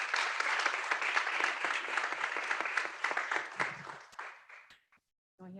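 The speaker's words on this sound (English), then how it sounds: "We have to clap." A room full of people at a community board meeting breaks into applause, a dense, steady clatter that thins out and stops near the end before a brief murmur resumes.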